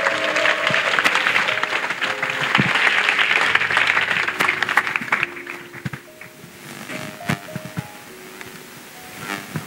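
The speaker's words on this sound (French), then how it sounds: "Clap offering to Jesus." Applause from a congregation at a national couples' retreat rings out loud and sustained for several seconds, then thins into scattered, uneven claps with a few sharp individual hits.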